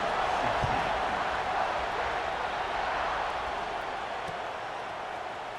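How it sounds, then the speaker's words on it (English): Stadium crowd in the College Football 26 video game buzzing as a steady, diffuse roar of distant voices and murmur, even and moderately faint throughout. "this crowd is buzzing after that last score."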